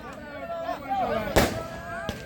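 Fireworks burst over a kabaddi semifinal between Chogan Club Jaipur and Nagaur Club, with a couple of sharp cracking pops standing out beneath a loud commentator's voice and crowd babble.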